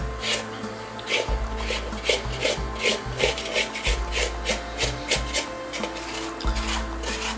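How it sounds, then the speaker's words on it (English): Shaggy, low-hydration thin-crust pizza dough is kneaded by hand on a table, giving a steady series of close, rough rubbing and slapping strokes at a quick, even rhythm with no voices. "your hand kneading, you can basically drop it onto the table, even if it's still kind of shaggy"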